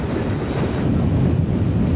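A Conrail freight train of 160 cars, pulled by two locomotives with no helpers, labors up a grade in the Alleghenies, making a steady, loud rumble and roar of engines and rolling cars with no voices.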